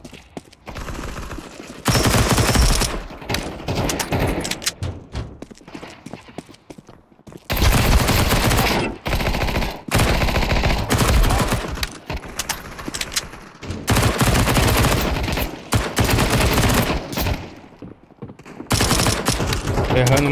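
Bursts of rapid gunfire in the shooter game CS:GO, loud and dense, coming in several long volleys separated by short quieter gaps.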